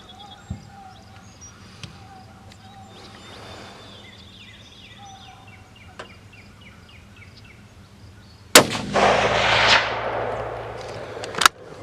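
A Ruger Precision rifle fires at long range outdoors, a sharp loud report with a ringing tail near the end, preceded by quieter scattered clicks and faint background sounds.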